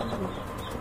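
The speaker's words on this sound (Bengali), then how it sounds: "এখানে কিন্তু এক জোড়া পোটার কবুতর রয়েছে, ম্যাকপাই পোটার।" A pair of large blue-bar magpie pouter pigeons gives low, murmuring coos close by in a brief steady burst, with a faint rustle at the end.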